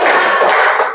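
A group claps hands in time to a spoken count, bright dense clapping filling the whole short moment at steady loudness.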